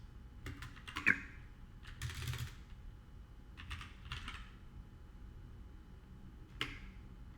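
Someone types a shell command on a computer keyboard: quiet, scattered key clicks in short bursts with pauses between, close and faint.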